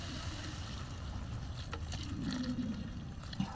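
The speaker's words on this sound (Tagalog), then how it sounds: "So, lagyan na natin yung tubig." Water poured into a cooking pot of batchoy broth, a faint low trickle and splash under a quiet kitchen background, brief and soft.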